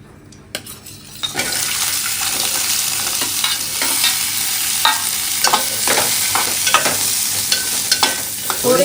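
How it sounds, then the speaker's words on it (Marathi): Raw mango pieces for a South Indian-style pickle sautéing in a pan, a sizzle that jumps up loudly as they go in, then continues with repeated spatula scrapes and clinks against the pan. "आणि आता याच्यातच आपण हा आंब्याची तोरा परतूची आहे"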